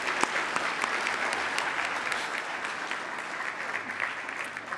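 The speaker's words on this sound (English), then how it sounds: "can we give them another round of applause?" Sustained applause from a large audience at a national gathering on unmarked burials in Gatineau, Quebec, dense and steady throughout with a few sharper individual claps standing out near the front.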